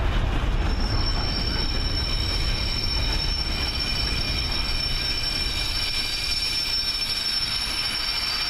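A South West Trains class 158 diesel unit pulls away from a station, with loud wheel squeal and rumbling rolling stock close by that fade slightly as it leaves, with no talking.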